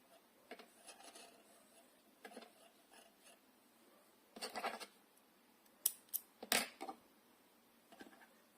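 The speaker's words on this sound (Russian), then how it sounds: "Здесь я ниточку белую обрезаю." Scissors snip white yarn thread several times, with quiet, scattered clicks and sharp close snips against a faint, still background.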